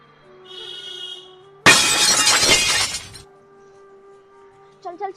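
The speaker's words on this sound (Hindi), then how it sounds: "चल उनका कांच तोड़ते हैं।" A window pane shatters loudly and close by for over a second, with a hum and faint background sounds before and after and a brief clatter at the end.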